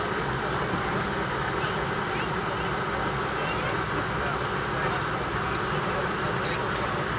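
A KLM Fokker airliner taxis after landing at Amsterdam Schiphol, its engines giving a steady broadband roar heard from inside the cabin, continuous and fairly loud with people talking over it.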